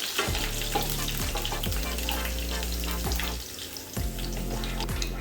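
Green chili mixture with garlic is stirred in a pan over a low flame for mango pickle, with a steady sizzle and repeated scraping strokes throughout.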